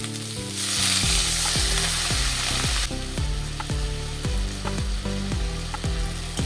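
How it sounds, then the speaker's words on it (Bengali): Spice paste with salt and spice water frying down in a pan for a potato and tomato fish curry, a loud dense sizzle with regular spatula strokes and scrapes at a steady pace, no voices. "দেখুন আমার মশলা ভালোভাবে কষানো হয়ে গেছে"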